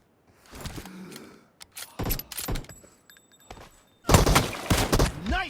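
Scattered gunshots from a shotgun and a Kar98 rifle crack in separate bursts with quiet gaps between them, during a PUBG Mobile match, close and sharp.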